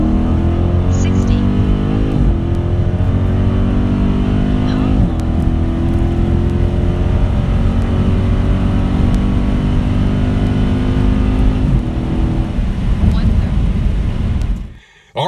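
A 2019 Dodge Challenger Scatpack accelerates hard in a 60-130 roll race, its engine a loud continuous roar climbing steadily in pitch through gear changes for about fourteen seconds before cutting off abruptly.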